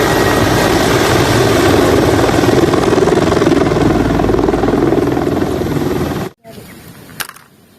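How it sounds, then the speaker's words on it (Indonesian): A helicopter passes close by with a loud, steady rotor thrum and engine whine for about six seconds, then cuts off abruptly, leaving quieter background noise with a brief knock near the end. "Nah, ada lagi teman-teman, helikopter."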